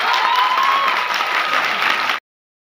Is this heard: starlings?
no